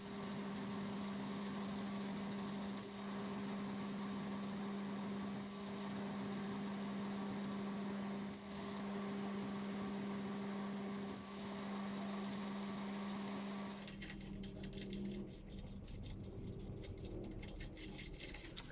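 Metal lathe cutting a 9/16 fine thread on a shaft, a steady droning motor hum with a strong tonal whine and faint periodic ticks, then the tone drops away as it winds down near the end.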